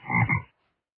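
A frog croaks once by a river, a single loud, close, two-part call lasting about half a second, followed by silence.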